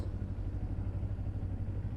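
Steady engine drone from a 2012 Triumph 675 Street Triple R motorcycle during a ride, a low, even hum with wind noise and no speech.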